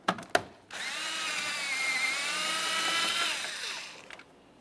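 A power tool spins out the 10mm tail light mounting bolts on a Toyota Sienna, a steady high whine of about three seconds after two sharp clicks, close and loud, winding down at the end.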